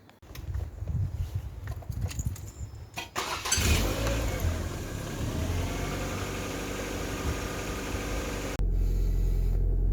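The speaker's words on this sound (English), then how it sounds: "the car is idling away on a cold start" Ford Focus Mk1 engine idling after a cold start, a steady low rumble that grows rougher and louder partway through and holds close to the microphone, with no one talking.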